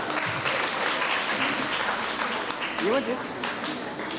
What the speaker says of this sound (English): Please join a hand of applause.